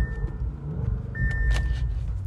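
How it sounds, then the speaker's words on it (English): A car engine idles and revs nearby, a deep low rumble with a brief swell midway, while a faint high tone and a few sharp clicks sound over it. "once they hear the engine, you already know it's like."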